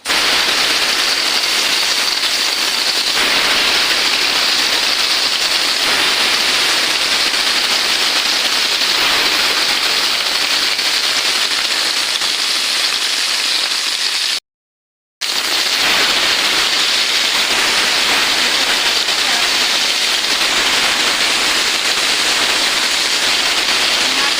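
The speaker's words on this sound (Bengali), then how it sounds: "তেল গরম হয়ে গেছে মাছটা আমি দিয়ে দিচ্ছি" Rohu fish fries in hot oil in a wok, giving a loud, continuous sizzling hiss that drops out for a moment midway and then carries on unchanged.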